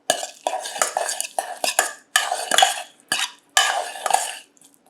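Hot food fresh from the pot is swirled with melting butter in a dish, making a run of close, rhythmic scraping and clinking strokes separated by short quiet gaps, with no speech.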